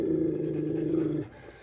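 A dog's low, steady growl rumbles up close for over a second, then cuts off into quiet background.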